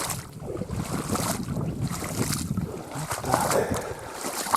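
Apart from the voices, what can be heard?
boat going up a river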